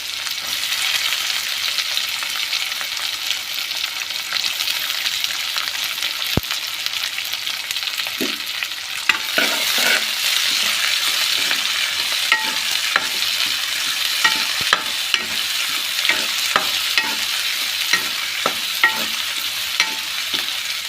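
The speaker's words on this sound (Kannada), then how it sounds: "ಆಮೇಲೆ ಒಂದು 2 ಈರುಳ್ಳಿನ ಕಟ್ ಮಾಡಿ ಹಾಕಿದ್ದೀನಿ" Chopped onions and garlic, with curry leaves, fry in a pan for a drumstick-leaf dal. A bright, steady sizzle fills the sound, and irregular scrapes and taps from the stirring spoon grow more frequent partway through. No one speaks.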